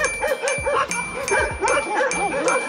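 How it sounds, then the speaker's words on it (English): Several stray dogs on Penang Island barking at once, a close, loud chorus of overlapping barks, yips and whimpers in a rapid, uneven rhythm. "we spotted 10 dogs barking at us at once."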